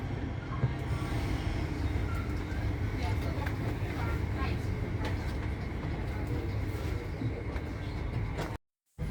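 Steady, loud interior rumble of a West Midlands Railway Class 323 train arriving at Birmingham New Street, with a voice speaking over it before a brief cut to silence.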